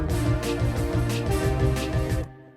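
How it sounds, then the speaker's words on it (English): A bright synth melody rides over steady beats and bass, dense and loud throughout, then cuts off abruptly near the end. "And that just relies on the synth melody."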